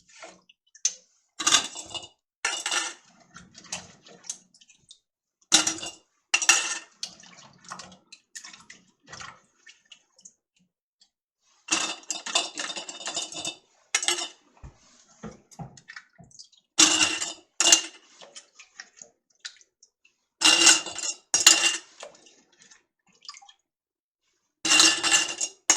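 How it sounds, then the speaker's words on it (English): Sliced potatoes and ham being layered into glass canning jars for ham and potato soup, with repeated clinks and taps of jars and utensils in short bursts, close and fairly loud, separated by pauses. "we're just going to layer our sliced potatoes and our ham"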